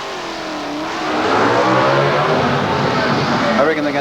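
Brand new Camaro Super Stock drag car with a 4-speed gearbox accelerating at the 1990 Winternationals at Willowbank, Australia, engine roar swelling to a sustained loud drone, while a commentator talks over it.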